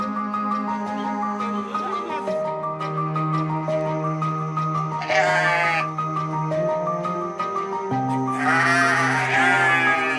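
Sheep on a livestock farm bleat repeatedly, several loud wavering calls overlapping up close, with a voice also audible in the background.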